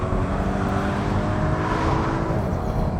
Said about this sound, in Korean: 생각보다 이 엔진음, 실내로 스며드는 엔진음이 많이 억제가 되어 있는데